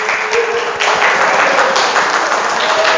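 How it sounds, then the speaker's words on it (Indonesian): Applause from students in a vocational high school classroom, a dense steady patter of clapping that runs evenly for a few seconds, close and fairly loud. "Oh iya, tepuk tangan."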